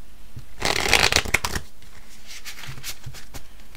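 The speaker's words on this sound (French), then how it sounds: "On va prendre un autre tarot pour vous." A deck of large tarot cards shuffled by hand in a close burst of riffling and rustling, then a few softer slides and taps, with no talk over it.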